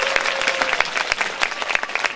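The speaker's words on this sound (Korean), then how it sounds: "박수 한번 부탁드리겠습니다." An audience at a live public broadcast claps briefly, a steady burst of many hands clapping together at moderate volume with a faint tone lingering underneath.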